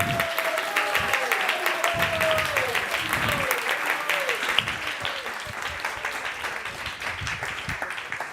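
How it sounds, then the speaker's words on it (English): Audience applause from a large crowd at a devotional talk, dense steady clapping filling the room throughout with a faint melodic tone and occasional voices underneath. "So a huge round of applause for them."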